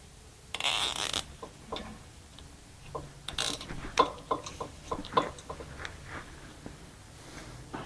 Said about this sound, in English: So I'm going to go ahead then and wire tie this to the unit.